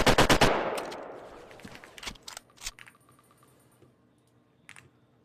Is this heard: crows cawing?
no